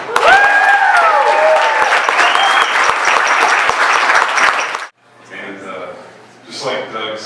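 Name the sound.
audience applause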